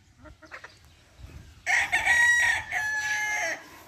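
A Boston gamefowl rooster crows loudly and close by, a strong sustained call rising after a quiet stretch of faint farmyard clucking and shuffling.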